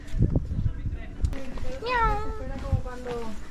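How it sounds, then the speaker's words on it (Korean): A cat meows a few times in Santorini, Greece, short rising and falling cries, while people talk nearby over a lively background. "고양이도 많지요?"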